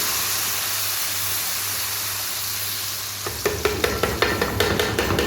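Boiled potatoes and tomatoes frying in ghee give off a steady close sizzling hiss, and sharp scraping clatters of a utensil stirring the pan join in toward the end.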